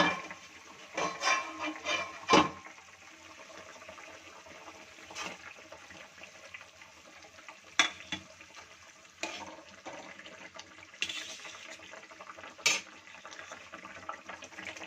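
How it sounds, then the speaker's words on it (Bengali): Water boiling under a lid in a pan on a high flame while fish curry is prepared, a low bubbling rumble with intermittent sharp clatters and rattles scattered through, no talking. "তো জলটা কিন্তু ফুটে উঠেছে"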